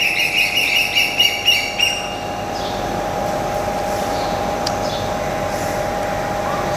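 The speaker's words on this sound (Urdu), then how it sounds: "وہ مرغ کم تھے کہ اب وہ کوئل بھی ساتھ آ گیا" Repeated bird calls in the first two seconds, a run of rising chirps, give way to a steady mechanical hum that continues alone to the end.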